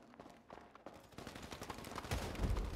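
Sustained GTA video game gunfire, a dense spray of rapid shots growing louder and heavier toward the end, with heavy low booms near the close and no talking.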